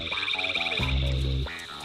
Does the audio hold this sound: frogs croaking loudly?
yes